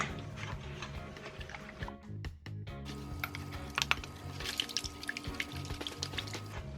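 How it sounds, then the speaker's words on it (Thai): Sugar and salt are stirred into a flour batter for taro-filled daifuku, giving a quiet, rhythmic tapping and wet scraping of the utensil against the bowl, close and continuous. "คนให้น้ำตาลเกลือละลายเข้าไปในแป้งนะคะ"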